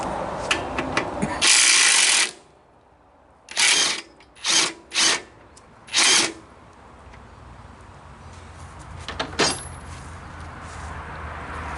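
A power tool, likely an impact wrench, removes the rear wheel of a 1996 Honda Magna 750: one long burst followed by four shorter bursts, loud and close, then quiet clinks of loosened parts.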